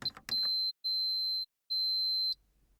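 Three sustained electronic beeps, each lasting about half a second with short gaps, loud and shrill after a brief clatter at the start.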